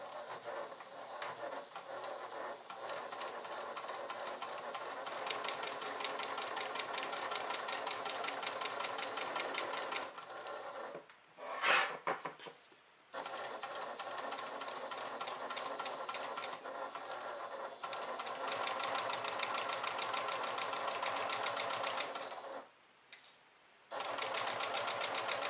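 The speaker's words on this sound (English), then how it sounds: "I'm going to do just a little back stitch" A sewing machine stitches the lining seam of a fabric clutch, including a short backstitch, with a steady rapid close-up mechanical whirring broken by two brief pauses.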